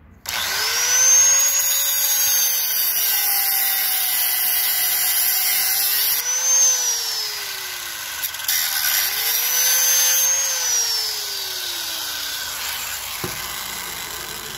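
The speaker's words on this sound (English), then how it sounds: "Using my Makita grinder" A Makita angle grinder in use since 1992 spins up to a loud steady whine, then winds down and revs up again in two sweeping cycles, close and with no talking.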